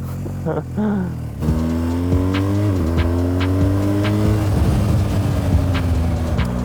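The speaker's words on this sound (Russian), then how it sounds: "вот я еду на мотоцикле с кофрами" A BMW R 1250 GS touring-enduro motorcycle with luggage cases gets underway, its engine revving and shifting up through gears in a loud, close, continuous drone that rises and falls in pitch.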